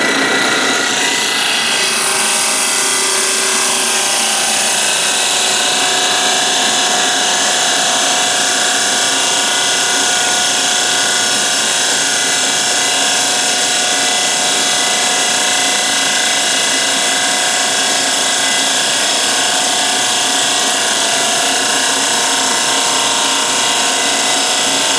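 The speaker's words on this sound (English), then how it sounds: "You don't usually get to see that much difference when you sand." A power sander running steadily on a rough-sawn piece of lumber, a loud, continuous close-up whir and rasp that holds unchanged from start to finish.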